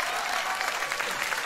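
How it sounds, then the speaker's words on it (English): Audience applause during a Mitch Hedberg stand-up set, a brief, dense burst of many hands clapping at steady volume. "You guys are so generous with the applause, man"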